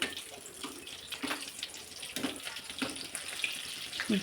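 Aloo bonda fritters fry in hot oil while being slowly turned, giving a steady, close, rushing sizzle with faint scattered crackles throughout, with no voices.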